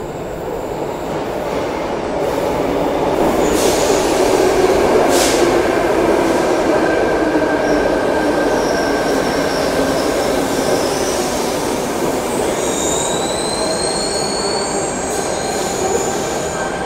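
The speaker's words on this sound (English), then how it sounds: "Now we have the Cronulla service arriving into platform 25." A Sydney Trains Cronulla service rolls into platform 25 at Central Station, its wheels squealing loudly and steadily under a broad rumble of railcars, with high metallic screeches near the end.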